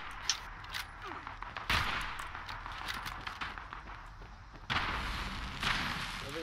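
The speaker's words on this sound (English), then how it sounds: "I'm being shot at by someone else." Gunfire in the Fallout 76 video game's Nuclear Winter mode, with a few sharp shots and heavier bursts breaking over a low, rumbling background, some louder and nearer than others.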